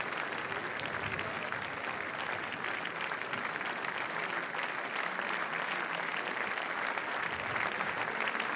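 Sustained ovation from a big outdoor crowd welcoming film teams up the red carpet steps at Cannes 2015, dense even clapping that holds steady throughout at a moderate distance.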